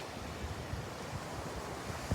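Sea waves wash onto a shore in Sierra Leone in a soft, continuous surf under light wind noise, calm and fairly faint, with a brief gust at the end.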